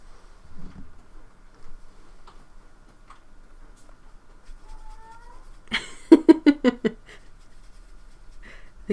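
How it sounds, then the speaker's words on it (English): A cat makes sounds nearby in a quiet room: a brief soft call, then a burst of five or six rapid, loud chattering or yowling cries in quick succession, then quiet again. "The cat is making sounds in the background."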